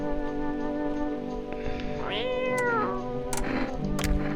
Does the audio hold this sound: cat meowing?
yes